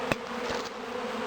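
Bees buzzing at the entrance of a hive during spring management, a steady, close insect drone with a couple of louder passes as individual bees fly near.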